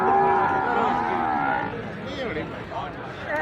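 Buffalo and cattle at a busy livestock market, with loud, drawn-out moos and lowing calls close by, one long call followed by shorter ones over a murmuring crowd background.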